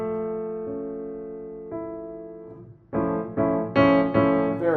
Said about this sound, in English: So this would be an augmented major 7th.